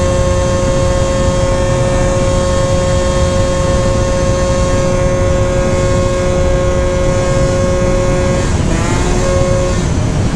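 A Honda Elite AF16 scooter with a smart carburetor holds a strong, loud engine drone that briefly dips and then climbs again in pitch near the end.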